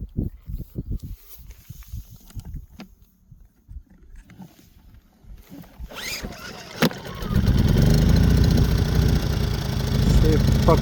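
A CFMoto 3 kW portable generator starts up and settles into a steady, loud running drone after a few quieter seconds of knocks and handling noise.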